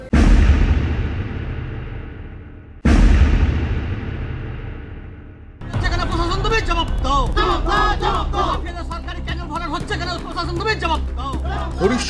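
Farmers protest on a street in Harishchandrapur, Balapathar village, a loud crowd chanting and shouting slogans together, preceded by two sharp ringing strikes that decay slowly.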